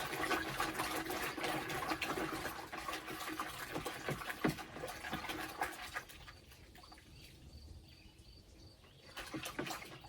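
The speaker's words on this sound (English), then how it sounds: "And I swish it around in the clean water." Water sloshes and swishes in a bowl as a white mobility cane is swished briskly through it, then quieter trickling and a few soft knocks.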